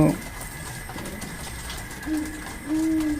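Pigeons in a pigeon loft's pairing section coo softly. Low murmuring coos build to two clearer, louder coos near the end, with faint room noise between them.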